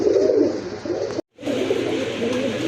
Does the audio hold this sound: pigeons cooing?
yes